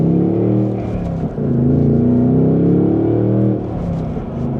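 A 2026 Ford Mustang GT coupe with its V8 engine accelerates hard through the gears, a loud, close, deep rumbling roar whose pitch climbs, dips briefly at a shift and climbs again.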